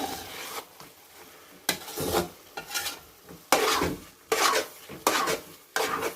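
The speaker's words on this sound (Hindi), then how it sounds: "और घी डाल रहे हैं ताकि इसका जो है ना आहिस्ता आहिस्ता दाना बनना शुरू हो जाए, घी में बुनाई हो जाए इसकी।" Grated carrot halwa is stirred and roasted in ghee in a pot, with a spoon scraping and rasping against the metal in repeated broad strokes, close and fairly loud, with no speech.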